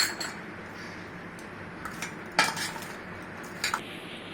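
Turmeric being mixed into poha in a pan, with soft scraping and a few sharp clinks of a metal spoon against the pan over a low background, close and without voices.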